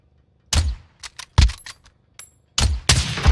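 Video game gunfire in a multiplayer shooter: several sharp, loud shots in quick bursts, one near-rapid volley at the end, separated by short silences.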